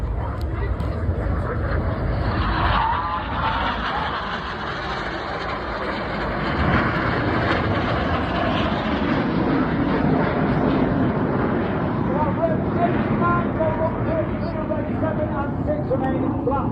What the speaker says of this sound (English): Each pair of aircraft will now dive down to only 100 feet above the beach